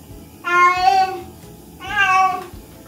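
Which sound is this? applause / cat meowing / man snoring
cat meowing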